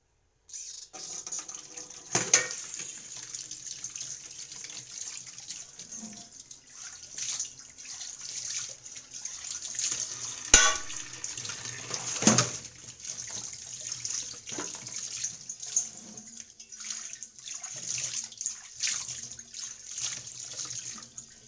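Dishes and plates are scrubbed and rinsed under a running tap, with steady water flow broken by clinks and knocks of crockery at intervals.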